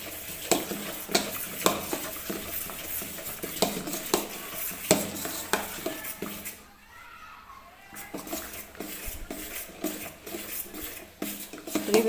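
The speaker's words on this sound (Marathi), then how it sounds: "सोडा टाकल्यानंतर हे व्यवस्थित बॅटर आपल्याला मिक्स करून घ्यायचं आहे" Spoon stirring idli-style rice and urad dal batter after baking soda is added, with repeated rhythmic scraping and clinking against a metal bowl, close and clear, pausing briefly midway.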